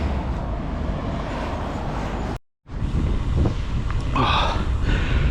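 Rough, gusting wind buffeting the microphone while cycling, with a brief dropout midway and a faint higher noise toward the end.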